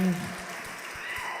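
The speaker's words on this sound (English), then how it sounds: "Can we get a round of applause?" A crowd applauds with scattered claps at moderate volume, while a voice talks over it.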